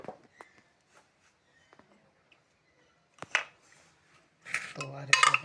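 Lid of a pressure cooker coming off and a metal pot of stuffed bitter gourd curry being handled, with a few sharp metallic clanks early on and a louder burst of clattering near the end.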